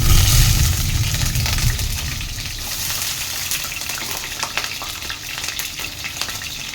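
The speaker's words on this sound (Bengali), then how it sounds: "মাছের মাথাগুলো ভেজে নেবো।" Hilsa fish heads fry in hot oil in a pan, a steady loud sizzle and crackle that fades slightly over several seconds, with no voices.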